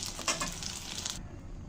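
Pieces of Kashmiri dhoka, a lentil cake, fry in hot oil with a dense, bright sizzle and a couple of stirring scrapes, cutting off abruptly to a quieter hiss.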